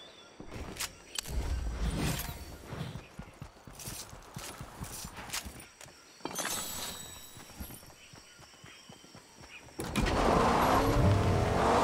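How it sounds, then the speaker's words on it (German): A car in the Fortnite video game drives near the player amid scattered thuds and steps, its engine noise surging into a loud, close, continuous roar toward the end. "Da ist ein Auto."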